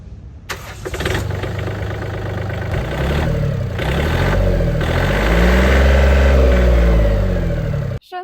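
The 26-horsepower, three-cylinder 1330 cc diesel engine of a Yanmar AF226 mini tractor cranks and fires, then runs with a steady chugging idle that gradually deepens, cutting off abruptly near the end.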